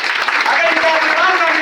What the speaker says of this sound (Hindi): ऐसे भगवान के लिए जोरदार तालियां।